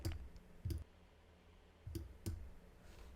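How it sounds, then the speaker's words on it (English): Computer mouse clicked in quick pairs, two crisp double clicks close by and faint against a quiet room, with a small extra tap between them. "you can actually double click on it and then edit it"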